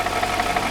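A car engine, once a $120K car now turned racecar, idles roughly with a misfire, producing a loud, close, uneven mid-pitched rumble with a slight knocking pulse.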